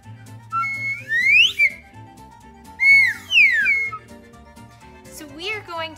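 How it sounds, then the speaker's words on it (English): A slide whistle glides up and down in pitch in several loud swooping runs, close by, with brief pauses between sweeps. "This is a slide whistle."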